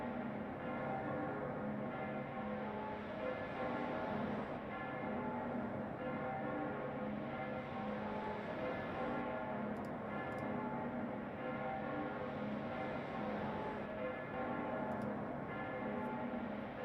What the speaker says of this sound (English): I can still hear the bell